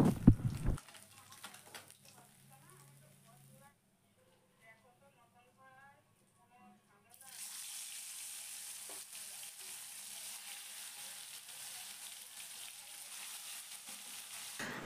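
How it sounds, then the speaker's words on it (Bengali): Parshe fish fry in hot oil with a bright, steady sizzle that rises sharply partway through and then holds loud and continuous. Quiet kitchen handling sounds come before it. "তো চলো এখন আমি মাছগুলোকে খুব ভালো করে ভেজে নেব।"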